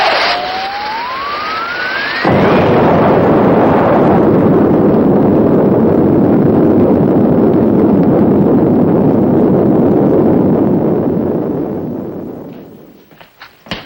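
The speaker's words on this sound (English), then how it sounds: "Looks like there's been some kind of an explosion" A rising whistle climbs for a couple of seconds, then a loud, sustained roaring blast of an explosion rumbles on before fading out.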